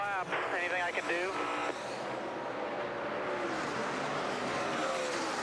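Carl Edwards' number 99 NASCAR race car slowing off the pace at the 2012 Brickyard 400 in Indianapolis, a loud, steady engine roar with a rising whine early on, heard under a commentator's voice.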